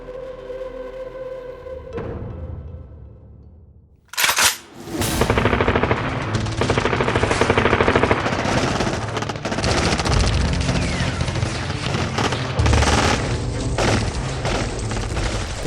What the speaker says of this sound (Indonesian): Tembakan dan teriakan mengisi langit malam